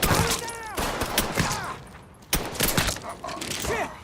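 Gunfire volley in the video game Mafia III, a burst of rapid shots mixed with shouted voices and effects, loud and close, with another sharp report partway through.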